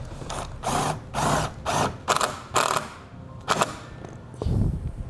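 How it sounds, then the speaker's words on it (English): A self-tapping screw being driven into vehicle sheet metal on a 2017 Ford with a power driver, heard as a series of close, loud ratcheting bursts separated by short pauses. "We'll attach this to our vehicle sheet metal using our provided self-tapping screw."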